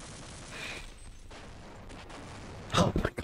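Gunfire aimed at the player in the video game Half-Life: scattered, muffled rapid shots at first, then a loud, close burst of clattering fire at the end.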